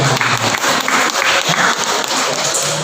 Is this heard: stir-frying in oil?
no